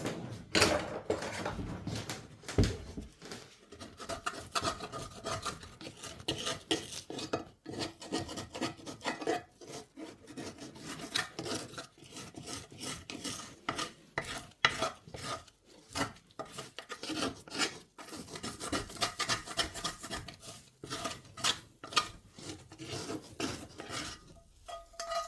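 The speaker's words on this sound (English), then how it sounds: "Just scraping any of the excess sugar and cinnamon. That was in the pot." Utensil scraping excess sugar and cinnamon from a pot after making apple cobbler, a continuous close gritty rasping and rubbing with irregular strokes, steady and fairly quiet, no speech.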